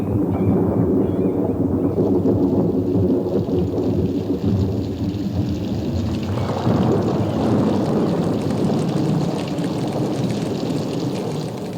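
Storm sounds in the wild chimpanzee habitat: a broad, steady roar of wind and heavy rain with low rumbling, swelling louder midway and continuing without voices.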